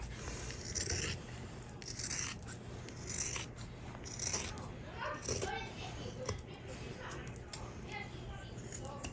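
Scissors trim fabric for an insulated water bottle holder, giving repeated soft snipping and rubbing strokes under a faint steady hum, with a voice talking throughout.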